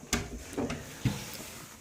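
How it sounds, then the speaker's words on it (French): A door between a room and a hallway is eased slightly open, giving a few soft, close knocks and creaks spread over about two seconds in a quiet room. "J'entrouvre la porte."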